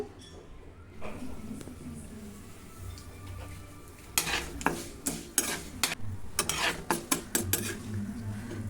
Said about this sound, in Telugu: ఇదిగోండి తాలింపు అనేది వేగిపోయింది